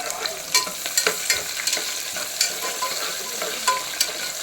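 Onions and a single green chilli fry in a pan for vegetable biryani, a steady sizzle punctuated by sharp clicks and scrapes from stirring, close and clear with no talking.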